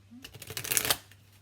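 A short riffle of tarot cards being shuffled, a brisk papery flutter lasting under a second, close and fairly loud, then quiet.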